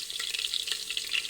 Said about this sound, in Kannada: ಇವಾಗ ಈ ಮಸಾಲೆಗಳನ್ನೆಲ್ಲ ಹಾಕ್ಕೊತಿದ್ದೀನಿ